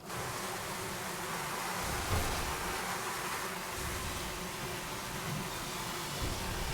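Giant bee buzzing in Sunless Skies game, a steady dense drone with a broad hissing texture, fairly loud and continuous with slight swells, no speech.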